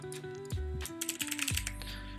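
Keys clatter on a computer keyboard as a card title is typed, a quick irregular run of close, crisp taps over a soft steady background tone.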